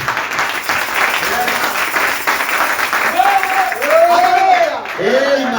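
A church congregation claps and cheers in praise of Jesus during a Sunday service, steady loud applause filling the room while voices shout and a leading voice rises in melodic calls over the clapping in the final seconds.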